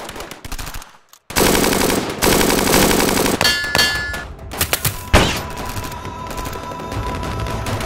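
Loud bursts of machine gun fire in a tabletop action figure war game battle, rapid sustained rattling volleys broken by short gaps, with metallic clangs and pings between bursts.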